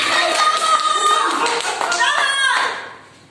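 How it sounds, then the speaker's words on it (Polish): Clapping for a volunteer singer at a wedding reception, mixed into loud singing and music with voices, the whole blend tapering off toward the end. "Wielkie brawa dla naszej ochotniczki śpiewającej dzisiaj."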